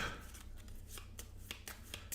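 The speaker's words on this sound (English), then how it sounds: "Shuffle these up." Cards for the board game Cartographers being shuffled by hand, a quiet series of brisk riffling snaps and soft flicks in an uneven rhythm, close and faint with no talking.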